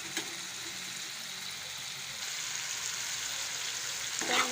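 Ground spices frying in a pan as they are roasted for a home-style recipe: a steady, close sizzle and hiss that runs unbroken, swelling slightly louder toward the end, with no talking.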